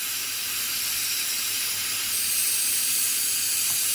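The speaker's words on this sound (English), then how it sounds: "we want quite a big flame. Use a size 7 tick. This is an old casting I did. Melting it down, reusing it." A large torch flame from a size 7 tip roars with a steady, loud, unbroken hiss as it melts down an old metal casting for a sand-cast textured ring.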